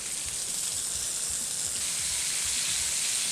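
Rib eye steaks fry in hot pans with a steady, close, bright sizzle that holds evenly throughout, with no talk.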